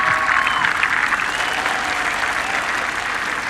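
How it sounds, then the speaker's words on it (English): A large golf gallery claps for the final group in the last round of the 2016 U.S. Open at Oakmont Country Club. Dense, sustained applause fills the whole stretch at an even, loud level. "Well-deserved applause for this last group."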